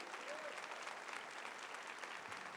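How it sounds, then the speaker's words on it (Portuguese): A church congregation applauds during a sermon, a steady wash of clapping from many hands lasting a few seconds, fairly quiet and even, with no voices over it. "você pode aplaudir a Cristo Jesus por isso"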